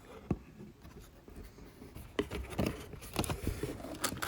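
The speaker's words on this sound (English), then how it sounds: "it's also hard to pull the cardboard thing out too" A cardboard insert is pulled and scraped out of a Maisto 1/24 scale model car box, giving faint, close rustling and scratchy paper friction with a few sharper snaps along the way.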